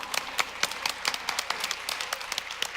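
A San Bernardino community gathering audience claps in a steady round of applause, sharp overlapping hand claps carrying on evenly for a few seconds with no voices over them.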